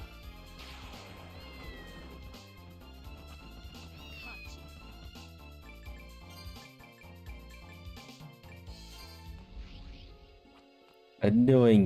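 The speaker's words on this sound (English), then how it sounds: "I hear a cat." A cat meows repeatedly over steady looping video game music in a Castlevania-style game, the cries rising and falling at moderate volume, with a loud burst of sound at the very end.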